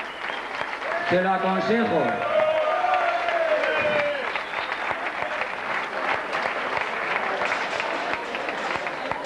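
Crowd applause for finishers at a 1997 road race prize-giving in Sueca, steady dense clapping that carries on throughout, with someone speaking briefly over a public address at the start.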